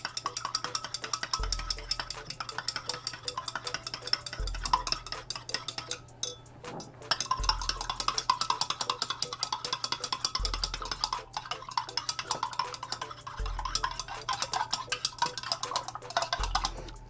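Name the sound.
stirring silk amino acid powder into water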